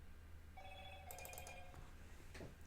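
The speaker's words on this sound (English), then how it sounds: "Phone's making noises." A phone rings faintly in a quiet indoor room, a short electronic trill of repeated tones over a low steady hum.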